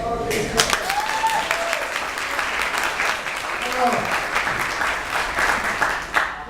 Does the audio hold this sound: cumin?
no